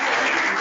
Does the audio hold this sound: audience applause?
yes